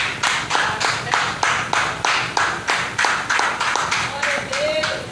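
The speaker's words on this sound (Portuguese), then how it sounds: "Vamos dar uma salva de palmas para o nosso Deus." A church congregation claps in a steady, even rhythm, a loud crowd beating time together, with a voice briefly heard over the clapping near the end.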